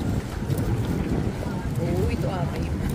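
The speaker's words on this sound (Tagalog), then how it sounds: "Lakas ang hangin." Strong wind buffets the microphone outdoors in Korea, a steady loud roar with low gusting rumble, with someone speaking over it.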